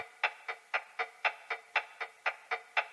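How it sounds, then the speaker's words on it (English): A clock tick-tock percussion sample: crisp, evenly spaced clicks about four per second, forming a steady dry percussive rhythm. "for the rhythm, I dropped a percussion sample, adding the clock tick-tock."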